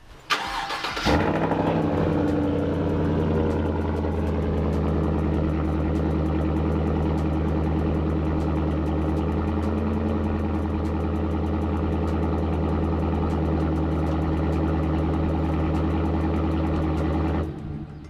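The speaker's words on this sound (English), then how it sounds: "We actually have a catback exhaust on that." Pickup truck with an upgraded catback exhaust starts with a sharp burst, then settles into a deep, steady, rumbling idle that runs close and loud for over fifteen seconds before cutting off.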